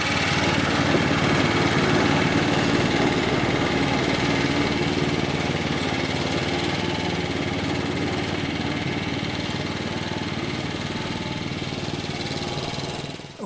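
A Swardman reel lawn mower cuts grass with a continuous, loud, even engine drone and rattling blade whir that holds steady throughout, with no talking.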